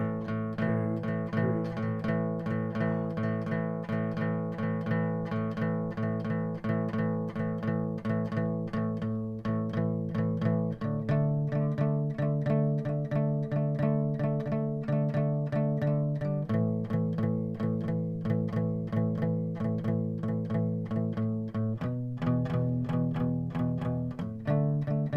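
An electric guitar with effects plays a steady, repeating 12-bar blues riff, chords shifting in regular cycles with a driving rhythm throughout and no voices.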